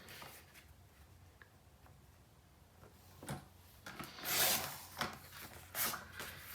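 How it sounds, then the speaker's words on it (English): Paper sliding and being cut in a 12-inch paper trimmer: soft rustling and scraping that builds into a few louder swishes of the blade in the second half, close and quiet, with no talking. "just pop that in my 12-inch trimmer and I can cut that straight through"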